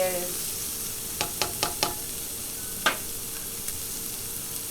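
Food sizzling and frying in a pan with spicy red pepper garlic being added, steady hiss underneath with a few sharp scraping clicks as it is stirred around.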